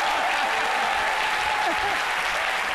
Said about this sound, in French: On applaudit très fort pour Jessica Bomba.